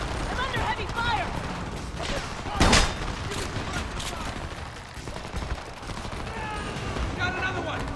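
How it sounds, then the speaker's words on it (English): Heavy gunfire in the Homefront video game: a dense fusillade of shots with one loud burst near the middle, running under chaotic game ambience and voices throughout. "I'm under heavy fire!"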